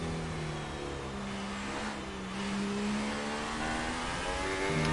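Red Bull Formula 1 car in the F1 2018 video game leaving the pits, a steady high-pitched engine drone with shifting harmonics that climbs slightly toward the end, alone without talk.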